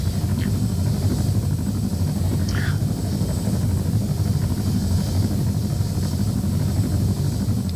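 Helicopter in the ARMA 3 video game, a steady low rotor and engine drone with a rumbling, buzzing texture, loud and continuous without pause, with a couple of faint chirps over it.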